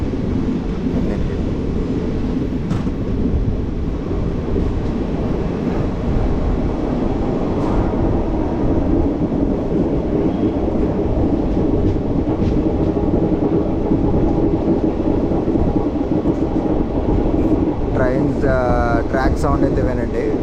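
A Kacheguda–Medak passenger train of Indian Railways runs along the tracks with a loud, unbroken rumble and rattle of wheels and carriages lasting the whole stretch, with some voices mixed in.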